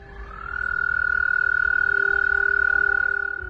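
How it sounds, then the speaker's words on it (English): A small frog gives a single sustained chirping call, a steady clear tone lasting about three seconds that rises slightly at its start and then holds level, heard alone over quiet background. "a little video on the internet of a little frog chirping"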